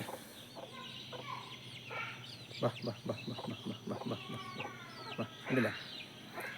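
Chickens on a farm, a hen with spotted chicks and a young rooster among them, cluck in a run of short, close calls that sit under some human talk.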